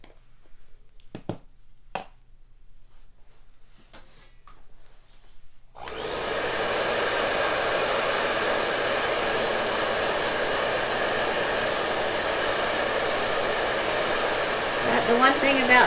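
A hair dryer switches on partway through and blows steadily and loudly to dry paint on a decorated baked treat, after a few quiet taps and clicks at the start.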